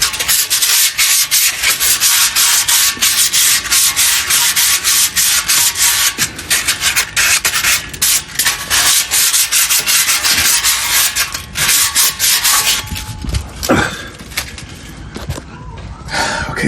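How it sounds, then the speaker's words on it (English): Sandpaper rubs rapidly back and forth over a car exhaust resonator during a repair, a loud, close, continuous scratchy rasp with brief pauses and shifts in stroke, and a soft breath or word near the end. "take a little bit of sandpaper"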